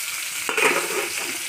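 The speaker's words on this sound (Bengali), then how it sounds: "মাছ ভাজা রয়েছে, আর এখানে কুমড়ো ভাজবো।" Fish frying in a pan makes a brief, close sizzle with a short stir or scrape partway through.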